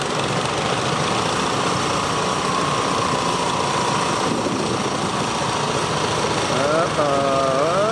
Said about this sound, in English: This is class 7 for the youngsters on the big wheel tractor.